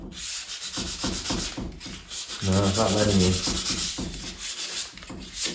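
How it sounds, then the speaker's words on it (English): Hand sanding rasps against the wood of a mid-century modern dresser in steady back-and-forth strokes, close up, while a person speaks briefly over the scraping. "I need to do it hard enough to sand off some of that brown"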